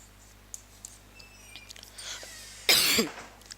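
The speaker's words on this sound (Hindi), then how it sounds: "खांसी ज़्यादा चलेगा ना।" A single harsh cough bursts out loud and close after a few quiet seconds of faint clicks and room noise.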